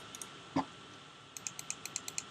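Crisp clicks of a Microsoft Wheel Mouse Optical's button close to the microphone: two soft taps, one sharper click, then a quick even run of about eight clicks.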